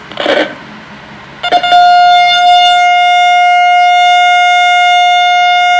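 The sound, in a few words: electronic burglar alarm siren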